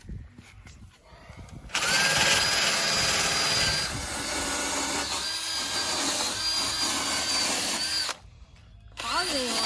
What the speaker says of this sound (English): I gotta do some little more sanding or a little wire brushing here